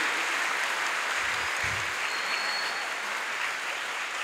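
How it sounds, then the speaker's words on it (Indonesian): Applause from the assembled crowd at an Indonesian Independence Day flag ceremony, the 78th, at a school in Bandar Lampung, a steady wash of clapping held at an even level throughout, fairly distant and diffuse. "Kita tepuk tangan untuk kesuksesan upacara kita pada hari ini."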